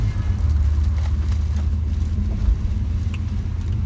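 Inside a Porsche Panamera Turbo, a steady low engine and road rumble fills the cabin, loud and continuous with faint rustles and no talking.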